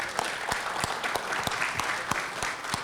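A town board meeting audience breaks into steady applause, dense overlapping claps filling the room at moderate volume, with a few sharper individual claps standing out from the crowd.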